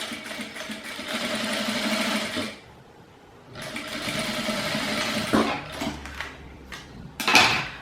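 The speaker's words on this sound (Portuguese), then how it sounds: "E agora eu vou costurar com o pezinho de máquina." A sewing machine with a presser foot stitching an unlined fabric wallet: two steady whirring runs of rapid needle strokes, separated by a short pause, then clicks and rustling as the fabric is handled.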